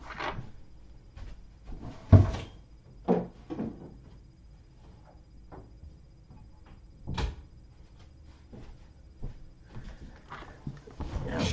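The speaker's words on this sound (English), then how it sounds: "I'm going to close this door" A door closes with a sharp thump, followed by scattered knocks and handling sounds in a quiet room.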